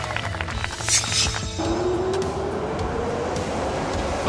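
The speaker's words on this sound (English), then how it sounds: "Subway train." A subway train rumbles past with a dense, steady roar, a rising electric whine emerging midway as the rolling noise continues.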